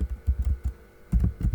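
Bursts of typing on a computer keyboard, several quick key clusters separated by a short pause, close and fairly soft, with no speech.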